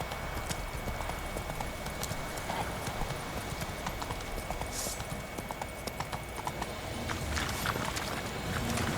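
Roach the horse gallops in The Witcher 3, hooves clip-clopping in a fast steady rhythm close by, with an occasional faint snort and no voices.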